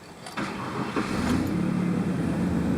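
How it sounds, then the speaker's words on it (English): A car engine cranks and catches, then settles into a steady idle after its mass airflow sensor has been cleaned, heard close with no voices. "let's go start up the engine and see our readings"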